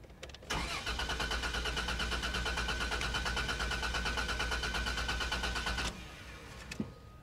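A car engine cranks continuously for about five seconds with a rapid rhythmic starter chug, loud and close, then stops without catching.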